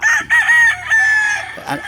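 A fighting gamecock at a farm crows loudly and close, one strained, drawn-out call broken into several held segments, followed by a short cluck at the end.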